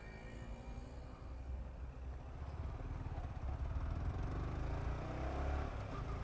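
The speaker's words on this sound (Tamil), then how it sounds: "நம்மளோட பைக்கில் இருந்து அந்த சவுண்டு வர்ற சவுண்டே வேற" A motorcycle engine droning steadily while riding, a low throbbing rumble that grows slightly louder and rougher toward the end, with wind noise and no voices.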